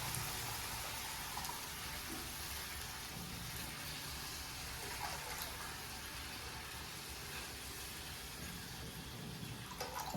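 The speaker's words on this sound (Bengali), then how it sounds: "জল দিচ্ছি।" Water pours steadily into a cooking pot, giving a continuous, even hiss and splash that carries on without a break and stays soft, with no talking.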